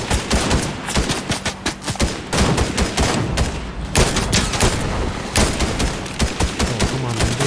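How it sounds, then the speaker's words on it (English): Gunfire from a player shooting in Fortnite comes in loud rapid bursts that repeat almost without pause, and faint voices talk beneath the shots. "someone is shooting across"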